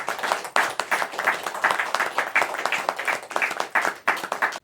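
A crowd at a book launch gives a round of applause, dense rapid clapping from many hands sustained for several seconds, close and steady with a few louder individual claps.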